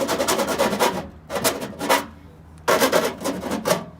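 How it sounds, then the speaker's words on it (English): A metal file rasping around the edge of a cut hole in a downspout, in close, scratchy strokes that come in bursts with short pauses between them, with no voices. "What we have here is a metal filing tool, and so what you'll do is just kind of go around in circles like that"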